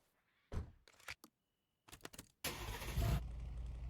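A truck engine turns over and catches after a few thunks and short cranking bursts with pauses between them, then settles into a steady, fairly loud running rumble.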